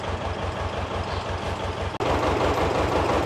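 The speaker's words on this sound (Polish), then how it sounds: "traktorek chodzi sobie na takich nie za szybkich obrotach." A small tractor engine runs steadily at low, unhurried revs, with a pulsing low-frequency rhythm throughout and no speech.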